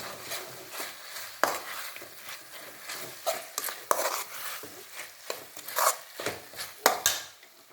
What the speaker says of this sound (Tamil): இப்போ இந்த பொரிச்ச காலிஃப்ளவரை இதில் போடணும் இதில் நல்லா கிண்டணும்